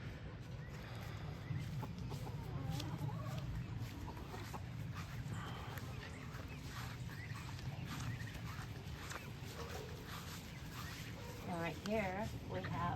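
Year-old hens and a single rooster cluck and murmur on a homestead, soft close bird calls scattered throughout under a person talking.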